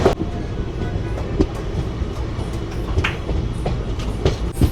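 A Secunderabad to Vijayawada passenger train rolls along at steady speed, its wheels clacking in irregular clicks and thumps over a loud continuous rumble heard from inside the carriage.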